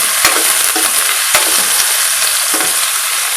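Green chillies and sliced onions fry in a pan with a continuous bright sizzle, broken by a few sharp scrapes and knocks of a stirring spoon.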